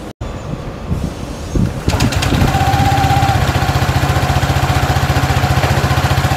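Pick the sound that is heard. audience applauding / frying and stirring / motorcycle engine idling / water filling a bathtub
motorcycle engine idling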